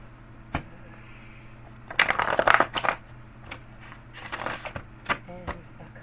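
Playing cards riffle and shuffle in two quick, crisp bursts close by, with faint clicks and background noise around them.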